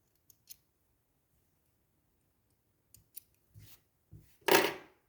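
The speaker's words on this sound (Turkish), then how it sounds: "Bu ipleri keselim" Scissors snip the threads of Turkish needle lace with a butterfly pattern: a few small, sharp clicks spaced apart, then a louder, fuller cut at the end, close and alone in a quiet room.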